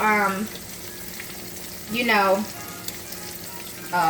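Flour-coated pork chops fry in a pan with a steady crackling sizzle, interrupted by two or three short bursts of louder spitting as the pieces are moved or stirred. No one speaks.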